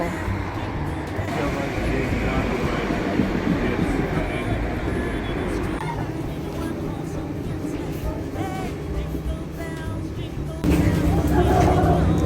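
A train rumbles steadily at a railway platform in Germany, with low mechanical hum and rattling; the sound swells louder near the end, and voices murmur faintly.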